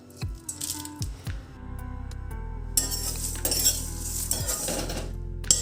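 Whole spices such as cinnamon stick, cardamom and cloves rattling and clinking against a metal pan as they are stirred and roasted dry, with scraping strokes and a low steady hum beneath.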